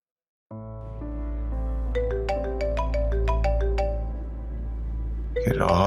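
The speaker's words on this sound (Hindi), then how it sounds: "राहा क्यों कॉल कर रही है मुझे?" A phone ringtone plays a steady, melodic run of electronic tones for an incoming call, close and loud, with the chiming notes bunched in the middle and a brief voice starting at the very end.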